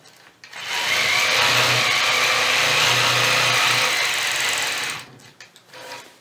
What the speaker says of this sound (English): Stitched one scallop, move over and stitch the next one.